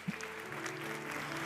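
A church congregation applauding the Lord during a sermon: a brief burst of many hands clapping in a reverberant hall, with sustained music tones underneath, fairly faint overall.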